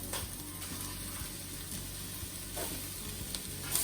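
Baby carrots cooking down in a pan, giving a steady close sizzle with faint stirring and light clinks throughout, a little louder toward the end, and no talking.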